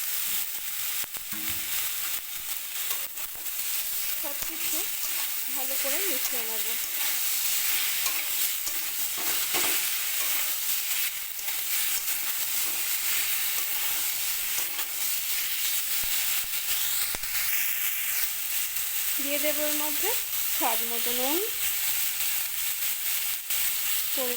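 Steady loud sizzling of steamed taro stolons frying in a pan, with stirring scrapes and a few short tonal squeaks from the utensil against the pan.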